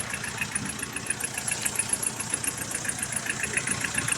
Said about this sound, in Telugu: అది ఫ్యాన్ తిరుగుతుంది చూసారా